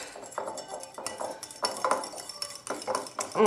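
Homemade firming cream mixed with a utensil in a bowl, heard as repeated close scraping and clinking strokes against the container in an irregular rhythm, with no talk.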